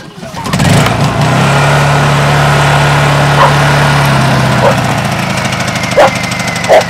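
A generator engine used for charging batteries cranks once, catches and runs at a steady loud drone. A few sharp knocks and clicks sound near the end.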